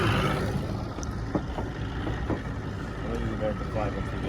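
A restored 1974 Starcraft boat runs on open water with constant motor and wind rush close to the microphone, while voices talk intermittently over it.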